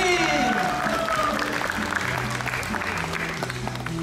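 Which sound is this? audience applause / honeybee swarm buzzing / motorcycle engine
audience applause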